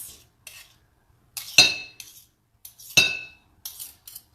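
A metal spoon scrapes and clinks against a small Pampered Chef bowl while stirring keto pancake batter, giving several sharp, close clanks with short scraping bursts in between and no talking.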